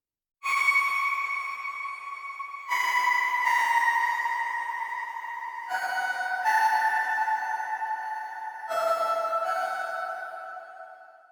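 A reedy synthesizer plays a slow, wistful western-style melody in sustained phrases, sounding like a harmonica, alone and steady at moderate volume.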